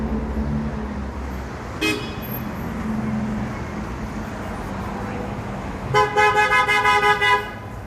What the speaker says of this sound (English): Wow, even the bus drivers are impatient here. The driver there honked 6 times.